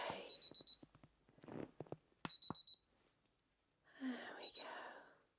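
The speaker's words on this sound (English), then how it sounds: "you'll hear a beep or two" Several short, high electronic beeps from an ear thermometer in quick bursts, separated by soft murmured speech and rustling nearby.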